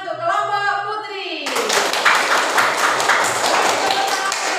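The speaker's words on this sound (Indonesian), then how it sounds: "Beri tepuk tangan untuk kelompok putri." A voice speaks briefly, then a classroom of students breaks into loud, sustained applause with many overlapping hand claps after a group presentation.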